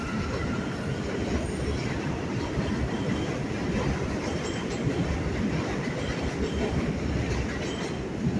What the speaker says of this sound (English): Upstairs, we can hear the train.